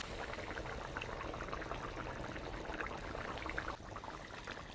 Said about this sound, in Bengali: এবারে এর মধ্যে দিয়ে দিব পরিমাণ মতো জল।